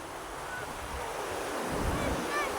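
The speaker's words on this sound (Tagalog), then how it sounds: "tingnan mo mga waves, oh, ang lalaki." Ocean surf at a beach during monsoon winds, a continuous close rush of breaking waves with low swells rising and falling and steady wind noise across the microphone.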